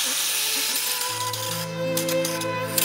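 A shaver with a metal foil head, mounted on a homemade mechanical arm, gives a steady high-pitched electric buzz that changes pitch in steps as its motor runs, close and fairly quiet.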